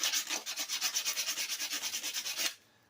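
Parts of a Murray 450 Series 20-inch push mower are sanded by hand. Rapid back-and-forth scrubbing strokes repeat at a steady rhythm for about two and a half seconds, close and alone, then stop abruptly.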